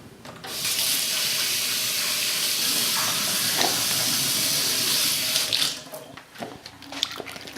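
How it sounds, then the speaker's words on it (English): Artichoke rinsed under a running kitchen tap: a steady, close rush of water for about five seconds, then the flow stops and a few light clatters and drips follow. "I'll rinse this a little bit before I put it into the"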